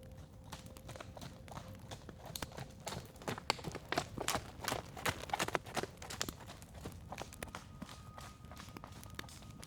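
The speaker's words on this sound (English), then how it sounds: "Soft footsteps on the grass." Horse hooves clopping at a walk across grass, a steady run of soft thuds that starts quiet, grows louder and nearer in the middle, then eases off, with faint background hiss.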